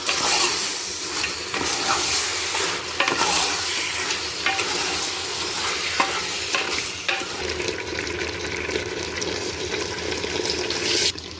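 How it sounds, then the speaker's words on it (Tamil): A country-chicken biryani mixture with salt is stirred in a pot, giving a steady close scraping and clinking of a spoon over a low sizzle that runs continuously with no talk. "தேவையான அளவு உப்பு, இதை நல்லா மிக்ஸ் பண்ணிக்கலாம்."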